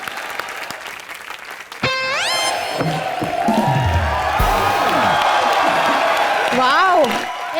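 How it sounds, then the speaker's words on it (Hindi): A studio audience at a comedy show bursts into loud, sustained applause and cheering, with whoops rising over a rush of musical stings and sound effects. "एक बार जोरदार तालियां हो जाए"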